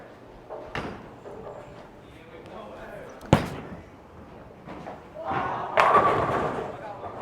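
A Storm Ghost Lock bowling ball thrown on a fresh house shot lane: a dull thud, then a sharp slam, then a rolling rumble that swells louder toward the end, with voices in the background.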